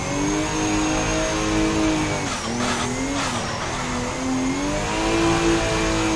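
A Nissan Silvia S15 drift car in the video game Assetto Corsa holds a loud, steady engine note, revving up and down while drifting, with tyre squeal partway through and no one talking.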